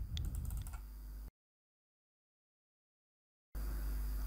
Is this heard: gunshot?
no